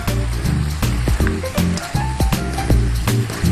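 Scallions go into a pan over high heat with the other ingredients for stir-fried udon, a loud steady sizzle with clattering stirring and tossing strokes throughout.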